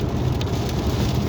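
Rain falls on the 4th of July in a steady, dense patter on surfaces, loud and even throughout, with no voices.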